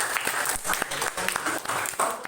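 Classroom audience clapping for a student presentation group, a dense burst of applause that fills the short moment at moderate volume without speech.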